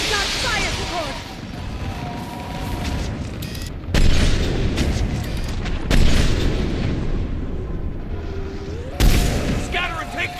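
Artillery fire-support explosions in Mass Effect 3 Legendary Edition, three heavy booms spaced a couple of seconds apart over a constant rumble of battle, with voices shouting over the din.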